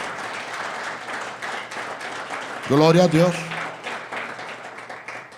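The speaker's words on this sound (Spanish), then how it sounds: "Dele un fuerte aplauso al Rey de Reyes y Señor de Señores." A church congregation applauds during a Spanish-language Easter sermon, with steady, dense clapping throughout and one voice briefly calling out partway through.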